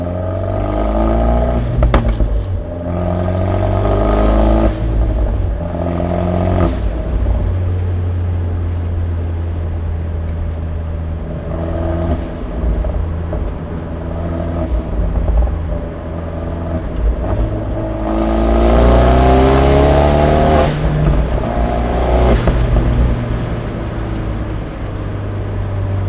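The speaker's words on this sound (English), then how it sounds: "now they're open. Same thing, light throttle, we're gonna compare it." An Abarth 124 Spider at light throttle with its exhaust valves open gives a loud, steady engine drone with rising and falling revs and a couple of gear changes, heard from inside the car with no talk.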